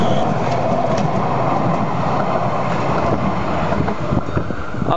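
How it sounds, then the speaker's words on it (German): A Cologne Stadtbahn B-Wagen light rail car pulls away with a steady, loud rumble and rolling rail noise close by, muffled by wind buffeting the microphone, with no talking. "Abfahrt eines B-Wagens"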